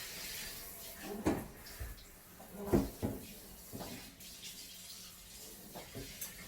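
Hot water runs from a kitchen tap into a sink with fluctuating pressure, a soft steady rush broken by several louder splashes and clunks, close and moderately quiet with no talk.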